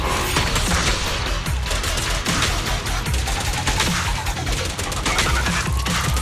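A Starlight Mirage special attack in Zenless Zone Zero unleashes a dense, loud barrage of rapid impacts and bursts, layered with game music and effects, continuous for the whole stretch.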